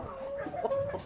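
Kuchin chickens clucking inside a warm coop, a short burst of close, overlapping clucks lasting about a second.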